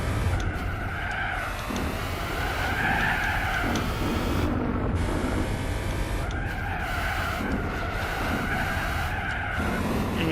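Race car driven fast in the Gran Turismo 4 video game, a steady loud engine drone with repeated tire skids and squeals as it corners, no talking.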